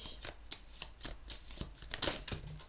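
Tarot cards are shuffled by hand in a quick, regular series of soft riffling flicks, close and fairly quiet, with one slightly sharper slap as a card falls.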